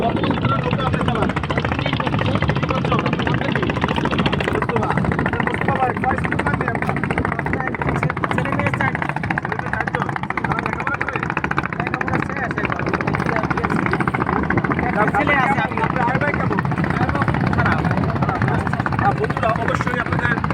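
Engine of a boat on the Buriganga river, a loud continuous droning rumble running steadily throughout, with people talking over it at times.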